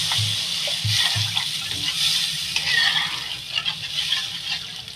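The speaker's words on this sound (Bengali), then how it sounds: "আমি এবার জল দিয়ে দেবো পরিমাণ মতো জল দিয়ে দেবো" Water poured into a pan of spiced tilapia curry simmering in oil, a steady close splashing and sizzling hiss that runs without a break for the whole span.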